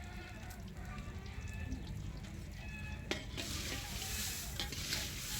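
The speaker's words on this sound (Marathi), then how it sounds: "जास्त तेल नाही टाकायचं मिरची भाजताना बघा" Green chillies roast in a little oil in a pan, a soft, steady sizzle with light stirring scrapes that grows brighter and louder in the final seconds, heard close up.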